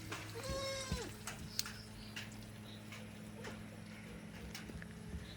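A large Malabari dairy goat of about 50 kg gives one clear, wavering bleat near the start. Faint ticks and a low steady hum continue behind it afterward.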